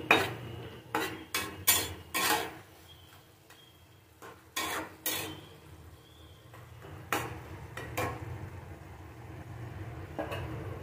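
Jaggery melting in a pan for pineapple chutney is stirred with a utensil, giving repeated sharp scrapes and clinks against the metal over a low, steady sizzle, close and moderately loud.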